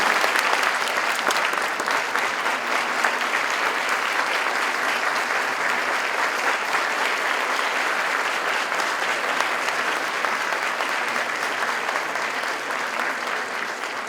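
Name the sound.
audience applause closing a lecture session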